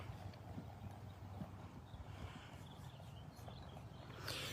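A junior working cow horse, blind in its left eye and ridden in a bit in Troup, Texas, clip-clops at a distance with soft, irregular hoofbeats over low background noise.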